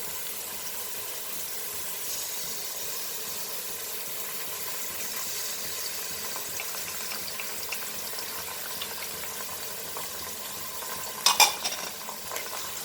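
Ginger garlic paste fries with mutton and onions in a pan, giving a steady, moderate sizzle throughout with light stirring and a brief clink of a utensil near the end.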